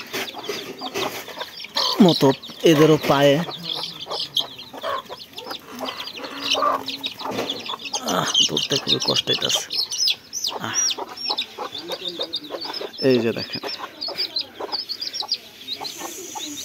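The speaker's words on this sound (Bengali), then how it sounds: "এগুলো সবই দেশি মুরগির বাচ্চা" Native chicken chicks cluck and chirp in quick, sharp bursts while being handled, close and fairly loud, with someone talking over and between the calls.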